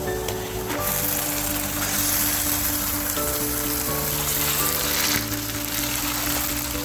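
Beef being added to lightly browned onions in a pan for biryani fries with a steady, close sizzle and crackle that holds at an even level, along with a faint tonal hum in the background.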